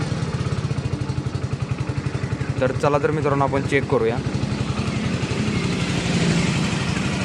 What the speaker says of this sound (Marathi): बघा गाडी चालू केलेली आहे